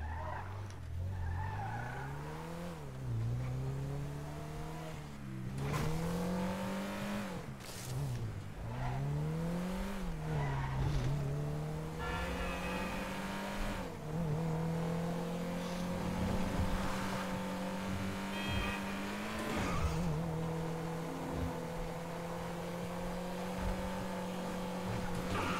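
A car in GTA 5 Online drives down a street, its engine rising and falling through repeated gear shifts and revs, with occasional tire screeches and bumps, steady and up close.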